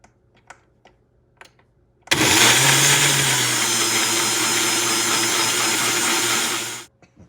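A blender roars on abruptly and runs steadily for about five seconds, pureeing tomatoes into juice for salsa, loud and close, then cuts off after a few faint clicks.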